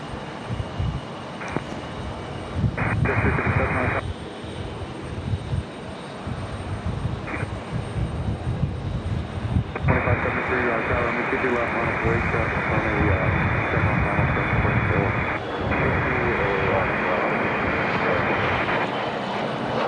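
United Express Republic jet departing Raleigh Durham airport toward Washington Dulles, a loud sustained engine roar and broadband rumble filling the whole span, heard from nearby with intermittent bursts of hiss.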